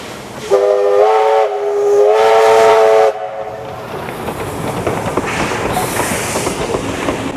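A loud steam locomotive whistle sounds in two long blasts, followed by the chugging rumble of the locomotive pulling a shuttle train away to Picton at the Thirlmere Festival of Steam.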